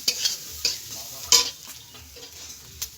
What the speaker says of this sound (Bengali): সামান্য হলুদ। এগুলো একটু ভেজে নেব।